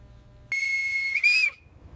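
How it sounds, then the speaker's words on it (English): A U.S. Navy boatswain's pipe call, a single loud shrill whistle that holds steady for about a second, then warbles and trills higher before cutting off, over a faint low background hum. "The boatswain's pipe is the voice of tradition. It cuts through the noise of the modern age."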